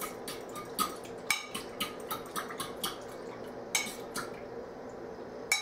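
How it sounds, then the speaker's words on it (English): A whisk clicks and taps against a crockpot while a yogurt mixture is stirred to break up lumps, the quiet strokes falling in an irregular rhythm with a few sharper knocks. "Now continue whisking until there's no lumps."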